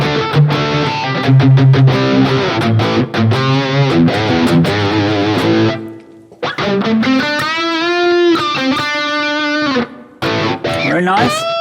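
Distorted electric guitar through a Fractal Audio Axe-Fx II, amp and cab with a little reverb and no boost or drive, plays chords and sustained bending notes with a wash of reverb, loud and continuous with a brief pause midway.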